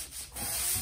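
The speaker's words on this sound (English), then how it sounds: "I then take 220 grit sandpaper to smooth everything out" Brief rough scrape of 220 grit sandpaper rubbed across primed wood on a cornhole board, close and steady, growing louder after a short pause.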